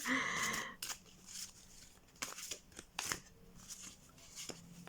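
Oracle cards are shuffled by hand in quick, soft bursts of papery riffling and sliding, with short pauses between each pass, close and fairly quiet.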